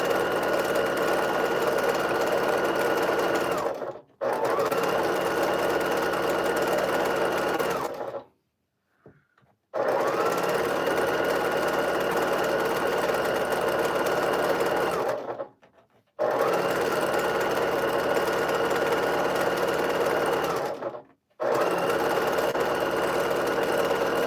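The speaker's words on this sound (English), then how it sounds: "I did tell some earlier what I was sewing on. This is a Pfaff Hobby 1200." A Pfaff Hobby 1200 sewing machine stitches a quilt in long steady runs, loud and close, with three short pauses between bursts.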